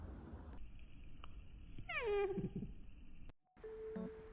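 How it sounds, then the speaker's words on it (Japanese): A pet ground squirrel gives a short, high, sliding cry lasting under a second, faint and close against a quiet room with a steady electronic whine, and no talking. "ジリスってこんな鳴き方するんだってすごくびっくりしましたね"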